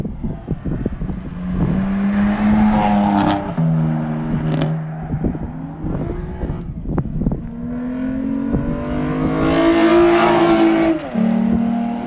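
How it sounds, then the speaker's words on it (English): A Toyota Camry race car accelerating away at Eagles Canyon in 2021, its engine revving up through the gears and fading, with a second louder car surge and engine noise near the end. "Brownie taking off in the Camry"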